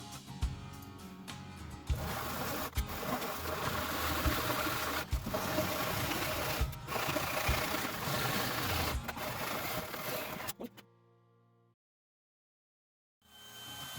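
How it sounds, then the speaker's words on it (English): Drill boring holes in metal flat bars for a coffee table build, a close, continuous grinding whine with periodic sharp bites over about ten seconds, then silence before the sound briefly resumes. "Now I am making holes in flat bars that I will use to prevent my tabletop to curve, to crack, or to warp."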